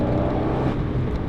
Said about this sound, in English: I cannot put into words how much the exhaust changes the experience.